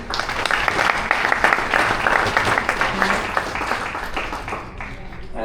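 Congregation clapping for a boy's parents at a talk on karma and dharma, a dense, steady wash of many hands that fades slightly toward the end.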